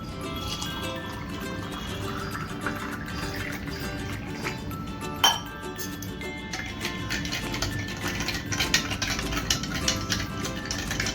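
Water is poured into a glass of salted lemon drink with ice in a steady stream, with occasional clinks of ice and a sharp knock partway through.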